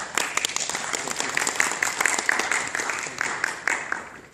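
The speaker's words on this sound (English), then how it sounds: "let's give him our best applause" An audience applauds steadily, many hands clapping in a dense, sustained patter with a few sharper claps standing out.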